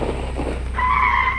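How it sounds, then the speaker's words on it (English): A car revs and accelerates close by, its engine note rising into a strained, steady high whine with a hint of tire skid, loud and alone. "I heard a car speed up beside me"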